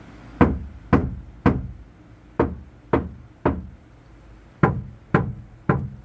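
Nine crisp knocks at the center of a Kia Sportage NQ5 bare steel door panel before sound deadening, in uneven groups, each a bright tap with a brief hollow ring, up close with quiet between.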